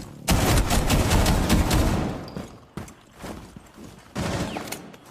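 Rainbow Six Siege gunfire: a loud sustained burst of rapid shots, a sharp crack and smaller pops in the middle, then another heavy burst near the end, with no talk over it.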